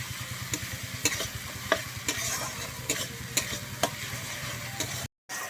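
Thick spice paste for Bengali doi katla, a yogurt fish curry, sizzles and fries steadily in a pan, with a spoon scraping and stirring in regular strokes; no one speaks.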